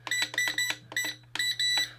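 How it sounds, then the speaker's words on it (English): Repeated electronic beeps from a mini RC quadcopter drone's remote, bursts of three quick tones then a pause, then a longer run of beeps, close and clear over a steady low hum. "Then you want to go back, and it'll make beeping sounds."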